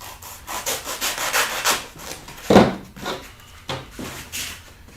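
Wood is beveled by hand for a winter wreath, rhythmic rasping strokes rubbing back and forth, close and fairly loud, with one sharper knock midway.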